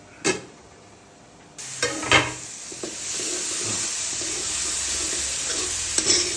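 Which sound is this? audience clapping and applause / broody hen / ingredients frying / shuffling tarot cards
ingredients frying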